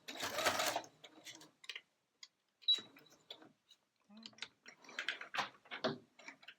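A sewing machine stitches a quilt-as-you-go strip, running back a few stitches and then forward in short bursts with pauses and small clicks between them, fairly quiet and close.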